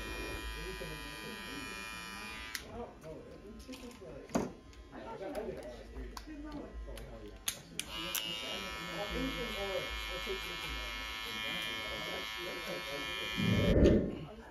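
A Gamma Rebel electric hair clipper with a number two guard fully open buzzes steadily during a burst fade haircut, with sharp clicks and taps scattered over the hum and someone talking throughout.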